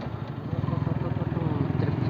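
A motorcycle engine drones steadily while riding along a road, close and rumbling with a pulsing rhythm that grows slightly louder as it goes, with talk mixed in.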